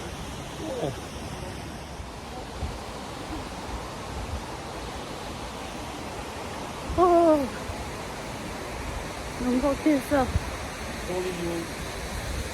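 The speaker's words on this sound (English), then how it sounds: "Look at that, the waterfall" Multnomah Falls roars as a steady, broad rush of falling water throughout, with people briefly talking and exclaiming over it.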